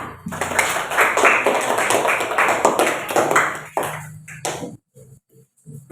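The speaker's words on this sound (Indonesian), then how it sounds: "Kita kasih aplaus untuk kelompok 4" A classroom of schoolchildren claps for group 4 after their lesson presentation on blood circulation: dense, loud clapping for about four and a half seconds, then it stops abruptly, leaving a few faint scattered sounds.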